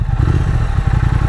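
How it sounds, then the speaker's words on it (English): A Triumph Thruxton RS motorcycle with its stock exhaust runs steadily up close, giving a loud, continuous low engine drone with a faint whiny edge and no voices. "I have the stock exhaust. They do have this like whiny sound,"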